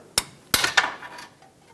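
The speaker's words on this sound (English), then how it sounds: "just put a pry bar right up against it and tap it with a hammer" A hammer taps a pry bar braced against a single-use clamp while removing a bellows boot on a 2013-2020 Nissan Pathfinder: three sharp metallic strikes, one early and two close together, each leaving a brief ringing decay in a quiet space.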